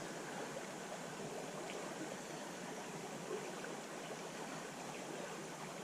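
A trout creek flows in a steady, even babble, moderately loud and nearby with no talking over it.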